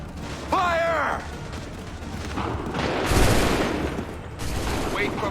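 Volley of massed gunfire from a video game battle, a ragged burst of shots swelling after a shouted order amid battlefield noise, with voices calling out around it.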